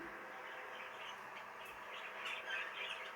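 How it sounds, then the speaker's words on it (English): A quiet stream of chattering chirps comes from an opaline cinnamon green cock budgie settled in a cage, the twittering growing a little busier toward the end. "So this bird then is an opaline cinnamon green cockbird."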